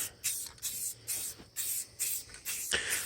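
Short hissing bursts of Raptor bed liner sprayed onto a Toyota FJ Cruiser bumper come close up, about six quick blasts in a steady rhythm with brief pauses between them.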